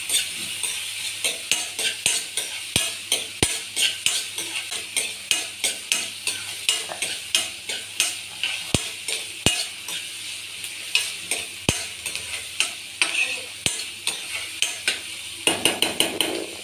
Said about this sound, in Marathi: कांदा चांगला शिजवून घ्यायचा तेलात।